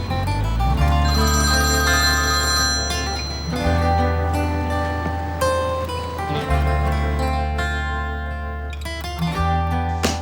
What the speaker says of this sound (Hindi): क्या फोन नहीं उठाओगे बेटा?